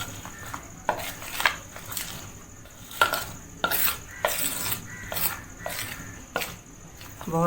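Gram flour (besan) batter being mixed in a bowl, a series of close, rhythmic wet strokes and spoon clicks repeating about once a second, with no speech.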